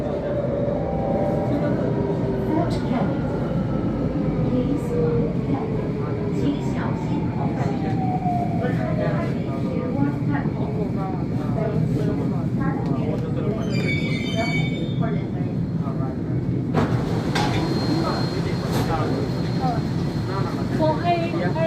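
A Singapore MRT subway train runs underground with a constant loud rumble, whining motor tones and squealing wheels, and a chime sounds near the end. A voice speaks over the noise.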